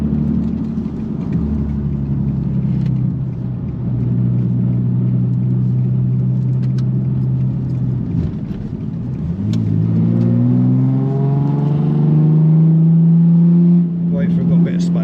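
A V6 Nissan Z and a V8 Dodge rev and accelerate on a dual carriageway, a loud, close engine drone that dips and then climbs in pitch through rising revs, with brief talk over it.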